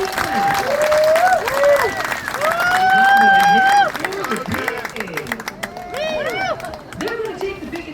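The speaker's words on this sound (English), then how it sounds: "Ladies and gentlemen, have a round of applause for our 2 hard-working men" Crowd at a Hawaiian luau pig roast applauding two workers, with clapping and cheers amid lively outdoor chatter and whoops, a voice carrying over the crowd throughout.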